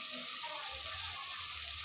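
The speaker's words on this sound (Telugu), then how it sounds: "ఆనియన్స్ గోల్డెన్ కలర్ వచ్చే వరకు మనము మంచిగా ఫ్రై అయితే చేసుకోవాలి" Onions frying in hot oil for a chicken curry, a steady close sizzle with soft crackling throughout and no voices.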